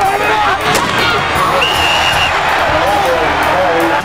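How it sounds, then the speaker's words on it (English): A football crowd at a high school game roaring wildly, a dense, sustained wall of cheering and shouting that stays loud throughout, with a voice heard over it. "And listen to the crowd go wild behind their book."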